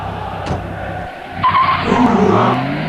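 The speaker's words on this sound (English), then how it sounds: "I can just see a car pulling up" A car pulls up nearby, with engine rumble and a brief tyre skid, rising louder in the second half and steady throughout with no talk.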